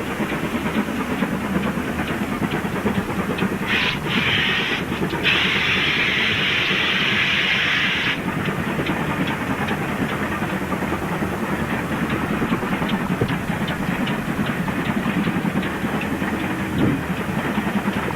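A 1927-batch Churchward tank steam locomotive rumbles past bunker first through Blue Anchor on the West Somerset line at steady volume, with a loud hiss of escaping steam for a few seconds partway through and faint rail clatter.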